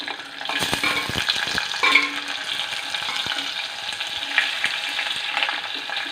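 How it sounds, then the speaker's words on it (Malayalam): Curry leaves and chopped raw green mango hit hot oil in a frying pan for a raw mango curry, giving a loud, continuous sizzle with bursts of crackling and the scrape of stirring. "കറിവേപ്പില ഇടുവാണേ ഇനി മാങ്ങ ഇതിനകത്തോട്ട് ഇടാമേ"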